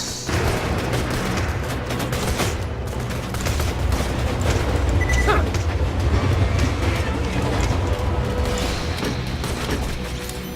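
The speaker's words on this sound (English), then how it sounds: "Can I get across here without getting run over by the train?" A train rumbles past in Borderlands 2 with loud, sustained rolling clatter and a few booming, gunfire-like bursts mixed into the roar.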